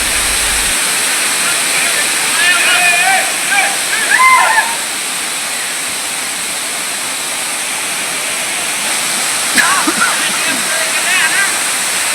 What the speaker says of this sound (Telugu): కొండ కోణల నుంచి దట్టమైన అడవి దాటి జాలువారే జలపాతాలు